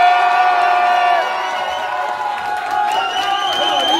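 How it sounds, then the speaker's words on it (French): Contest audience at a level-up competition semi-final gives a short burst of cheering and whoops with bright shouted voices, loud and close, fading slightly midway before rising again. "pour Tasmanu, s'il vous plaît, on l'applaudit"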